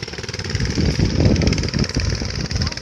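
A farm tractor at a terraced rice field runs close by with a loud, chugging engine and a fast, steady rhythmic pulse throughout.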